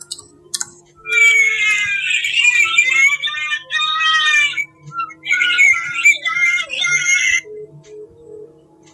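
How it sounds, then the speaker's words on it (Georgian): A woman screams in long, shrill, tinny bursts on a phone call recording, with a short pause between two drawn-out stretches. "ერთ-ერთ ჩანაწერზე, რომელშიც ქალის ყვირილი გვესმოდა"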